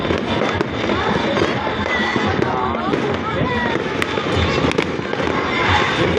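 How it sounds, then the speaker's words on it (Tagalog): A New Year fireworks display in Bacoor, Cavite crackles and bangs continuously, loud and close, with dense overlapping bursts and a crowd faintly underneath. "Yan yung mga fireworks na display"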